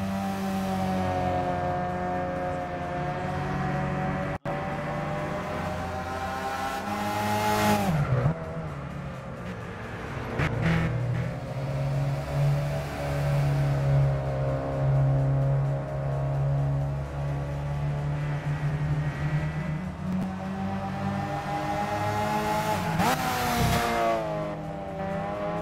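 A car engine fitted with a widened exhaust in Gran Turismo 6 drones loudly and steadily, its pitch rising and falling as it revs between gear changes. The engine tone carries on with no pauses for the whole stretch.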